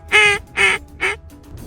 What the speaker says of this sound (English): This is a C&S Custom Calls Justifier single reed duck call.